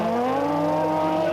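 A Citroën AX rally car's engine drones steadily at high revs, loud and continuous with a slowly rising pitch, no voices present.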